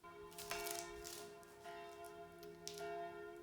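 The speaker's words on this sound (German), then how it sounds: "Die grossen Kirchenglocken von Unterseen läuten schon feierlich den Sonntag ein." The large church bells of Unterseen ring in Sunday morning, their steady tones sounding faint and distant, with repeated strokes blending under a soft background hum.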